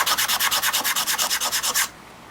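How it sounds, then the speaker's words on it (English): Sandpaper rubs the faces of parts smooth on a good flat surface in about fifteen steady, even back-and-forth strokes, close and loud, then stops abruptly. "sand them nice and smooth there like that"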